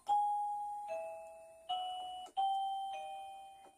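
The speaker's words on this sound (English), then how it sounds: "Standard doorbell sounds." A MECO wireless doorbell sounds its standard chime, a clear two-tone ding-dong repeated several times, each tone ringing out and decaying in a quiet room.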